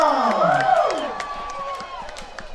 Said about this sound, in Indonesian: Berikan tepuk tangan yang meriah untuk Sekolah Vokasi Universitas Diponegoro.